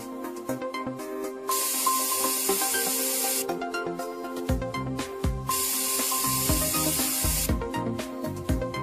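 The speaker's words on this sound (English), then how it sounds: "Firstly, conduct a spray test pattern." A spray gun laying down a test pattern of Northstar adhesive, loud close hissing bursts of spray in about three long passes separated by short pauses, with a rhythmic mechanical rattle running underneath.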